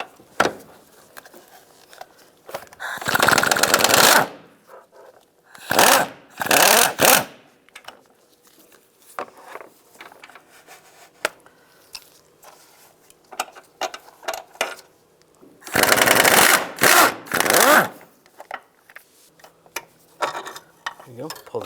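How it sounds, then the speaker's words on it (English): Ratchet socket wrench with a 16mm socket loosening transmission mount bolts on a 1999-2005 Volkswagen Jetta, heard as two loud bursts of rapid ratcheting clicks separated by quieter shuffling and handling noises. "I'm using a 16mm socket. Take out the other two bolts."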